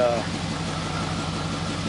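A 1969 Chevrolet Impala with a 327 V8 idling after a carburetor rebuild, a steady low rumbling idle, close and even throughout.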